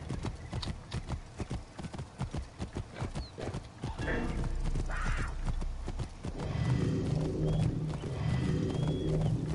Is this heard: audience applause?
no